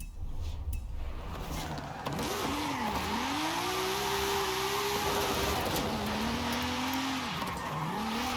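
Car drifting in Forza Horizon 5, a steady engine drone with rising and falling pitch sweeps as the revs climb and drop, tire squeal threaded through, loud and continuous for about eight seconds with no talk.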